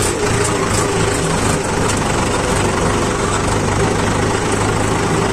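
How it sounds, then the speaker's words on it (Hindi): A Mahindra 575 DI tractor engine runs steadily and loudly, a close, continuous mechanical drone with no talk over it. "इसमें फुल पावर है ट्रैक्टर के इंजन में।"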